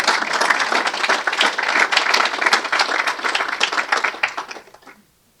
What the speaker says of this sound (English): So you want to clap for me?